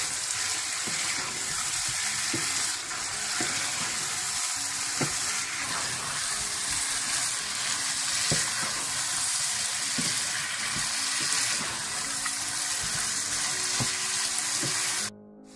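Chicken sizzling and frying in a pot after whisked yogurt is stirred in, a steady bright hiss with occasional spoon scrapes and knocks, close and continuous with no talk.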